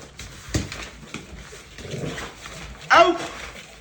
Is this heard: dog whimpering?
yes